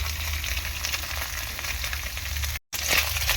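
Small fish sizzle and crackle in hot oil in a pan, a steady loud frying hiss with a brief break and a few scraping stirs near the end.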